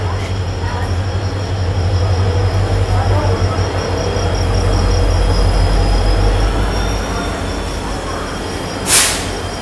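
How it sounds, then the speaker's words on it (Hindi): Aravali Express passenger train pulling into a station platform, a loud steady rumble of wheels and carriages with a brief high squeal near the end, no talk heard. "श्री गंगानगर से चलकर बांद्रा की ओर जाने वाली अरावली एक्सप्रेस आ गई है"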